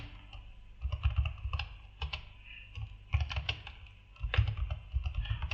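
Steady, close typing on a computer keyboard while Java code is written, with bursts of rapid key clicks broken by short pauses.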